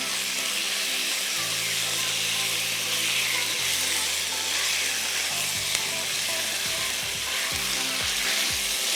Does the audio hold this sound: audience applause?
no